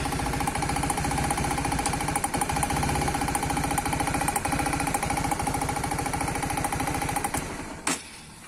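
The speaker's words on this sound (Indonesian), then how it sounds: "motor ini sering banget terdengar mesinnya bersuara kasar seperti klotok-klotok" A rough motorcycle engine runs loud and close with a rapid, steady knocking clatter throughout, cutting off abruptly near the end.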